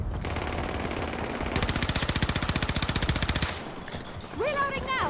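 Rapid automatic gunfire in the video game Battlefield 2042, one steady loud burst of about two seconds amid ambient battle noise, followed by a rising electronic whine.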